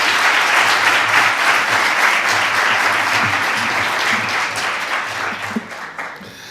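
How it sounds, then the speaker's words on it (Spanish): Audience at a conference applauding a speaker's introduction, a sustained, loud round of clapping from a large crowd that gradually tapers off near the end. "Y os pido, eso sí, un enorme aplauso para él."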